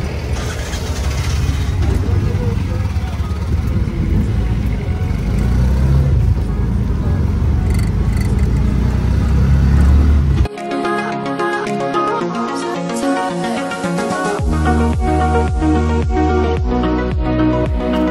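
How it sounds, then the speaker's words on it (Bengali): Interior road noise from an auto rickshaw ride in Kolkata, a loud rumbling engine and traffic drone for about ten seconds before it cuts abruptly to music for the rest of the stretch. "এখানে একটা অটো আমরা ধরে ফেলেছি"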